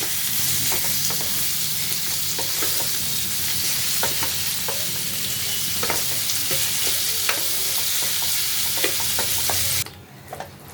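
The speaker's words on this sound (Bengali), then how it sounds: "হলুদ গুঁড়ো নুন দেবো আন্দাজ মতো দিয়ে এখন আমি ভালো করে এটাকে ঘেঁটে দেবো" Curry with turmeric and salt stirred in a hot pan, a steady close sizzle with repeated scraping strokes of the spoon for about ten seconds, then stopping abruptly near the end.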